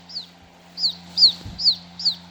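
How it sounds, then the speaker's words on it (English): A Wild Republic Audubon plush toy chicken chick gives its electronic call: five short, high, downward-sliding peeps in an even series, close and clear over a faint hum. "Chicken chick."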